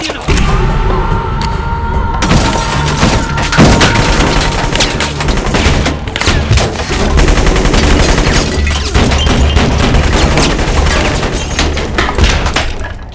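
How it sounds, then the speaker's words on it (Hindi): Bursts of small-gun fire inside a small house during a Hollywood action film scene, rapid cracking shots and thuds in dense, overlapping volleys that continue almost without pause. "इस छोटे से घर में छोटी छोटी बंदूकें लेकर गोलियां चला रहे हैं"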